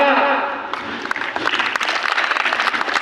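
A voice speaks over a microphone briefly, then audience clapping breaks out at a madrasa prize ceremony as children gather on stage, separate claps building into scattered, lively applause.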